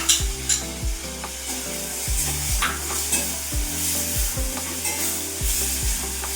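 Tomato puree made from two blended tomatoes sizzles and bubbles steadily in a frying pan for a prawn and cucumber curry, with a low mechanical hum and occasional soft stirring sounds throughout.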